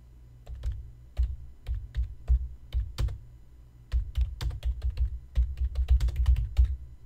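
Fingers tap rapidly on a computer keyboard in uneven bursts, with crisp close clicks and one short pause midway, no voices over them.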